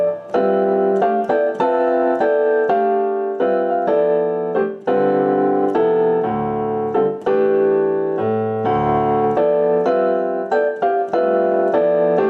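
Piano comping open pentatonic voicings on the white notes over a tune, in time: rhythmic, detached chord stabs with a syncopated pulse, each chord short and clear, with a few low bass notes.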